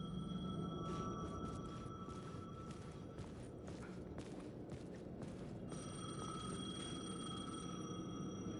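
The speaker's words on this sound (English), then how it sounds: "The payphone was ringing." A payphone rings in the video game Alan Wake 2, its electronic bell tones repeating steadily in regular bursts over a dark ambient background, with intermittent broadband noise partway through.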